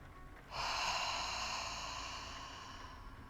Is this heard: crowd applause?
no